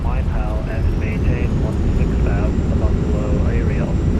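An Airbus A320 touches down in a flight simulator, its thrust reversers giving a loud, continuous low rumbling roar, while a voice speaks over it.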